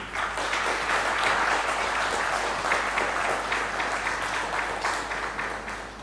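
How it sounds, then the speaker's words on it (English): An audience applauds the top 16 finalists at the Classmate Spell Bee Season 9 finale, a long, dense and steady round of clapping that fills the room for about six seconds before easing slightly. "Let's have a long round of applause for the top 16."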